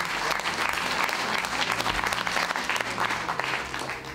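Dense, steady applause from an audience at an event celebrating newly elected women local council members, filling the whole stretch at an even level without letting up.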